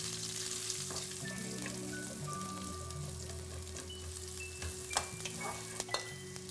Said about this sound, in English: Now in the same pan, you're gonna go in with your onions